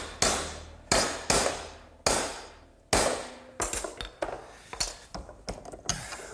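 A metal strip is bent in a vise using a hardwood block, giving a series of sharp knocks: a few evenly spaced heavy blows, then quicker, lighter taps.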